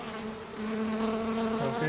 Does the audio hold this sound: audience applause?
no